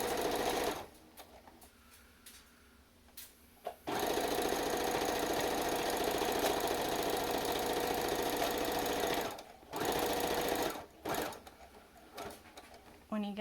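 A sewing machine stitches a fabric face mask, running loud and close in two long steady bursts with short pauses between, the rapid needle chatter continuous while it sews.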